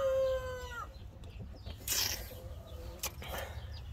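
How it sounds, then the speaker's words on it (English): Chickens clucking and a rooster's drawn-out call nearby, with scattered squawks and background noise. "And you can see those chickens over there."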